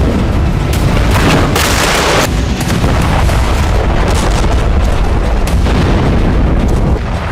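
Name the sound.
Iskander and North Korean missile explosions in Kyiv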